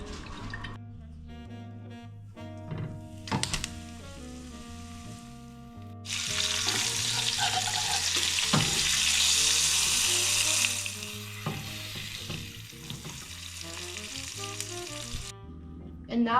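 Floured meat sears in an oiled pan, a loud, steady sizzle that swells midway and then fades back under quiet background music.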